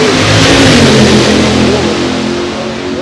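A Comet and a Mustang, gasser-style drag cars, roar loudly together as they launch at a hot rod reunion drag race, dense engine noise revving and then easing slightly, no voices.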